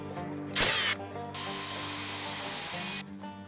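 Power drill driving 3-inch construction screws into wood studs for a backyard bench: a close, loud motor whine with a brief ratcheting burst at first, then a steady high-pitched drilling run lasting a couple of seconds before it stops.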